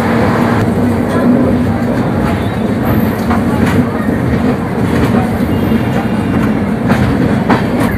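Jagannath Express passenger train on the Shalimar–Puri run, its carriages rolling along the rails with a loud, steady rumble and a continuous clickety-clack that holds from start to finish.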